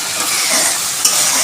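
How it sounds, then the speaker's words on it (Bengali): Spice paste frying in oil for a potato and pointed gourd dish: loud, steady hissing sizzle with soft stirring scrapes and one brief clink, close and continuous, no voices. "মশলাটা দিয়ে ভালো করে কষে নেব।"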